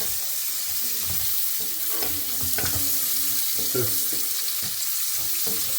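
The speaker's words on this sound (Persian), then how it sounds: "خب این هم اضافه میکنیم و شروع به تفت دادن میکنیم" Stuffing ingredients for a northern Iranian stuffed duck sauté in a pan, giving a steady close sizzle broken by repeated scraping stir strokes, with no voices.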